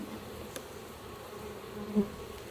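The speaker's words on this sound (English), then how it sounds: "And you're not hurting the bees, you're just flicking them off there basically." Steady low insect buzzing from many honey bees being shaken off a hive frame during a honey harvest, a continuous drone with a brief louder hum near the end.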